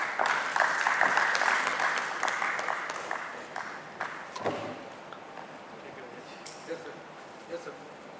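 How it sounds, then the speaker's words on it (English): An audience at a stock exchange listing ceremony in Mumbai applauds dignitaries, with the claps loudest at the start and thinning to scattered claps. Talk is heard under the applause. "May I request you all to give a round of applause to all our dignitaries"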